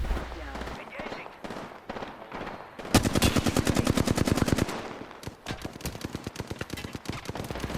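Rapid automatic gunfire in Apex Legends, a few scattered shots and then a dense burst of loud, evenly spaced rounds, followed by more bursts, with a voice talking faintly under parts of it.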